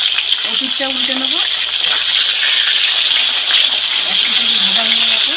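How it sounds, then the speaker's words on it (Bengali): Snakehead fish heads fry in hot oil in a pan, a continuous close, loud sizzling hiss with bubbling crackle, steady throughout. "তেল গরম হয়ে গেছে, মাছের মাথা ভেজে নিচ্ছি।"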